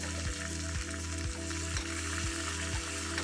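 Mustard seeds, cumin and curry leaves tempering in hot oil, a dense continuous sizzle with rapid crackling pops and a steady rhythmic scraping beneath, close and loud.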